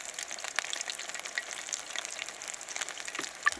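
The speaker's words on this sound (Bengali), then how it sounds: "বাকিটা ভেজে নিতেছি" Fish pieces coated in gram flour batter fry in oil, a steady crackling sizzle with scattered sharp pops, close and moderately loud, with no voices.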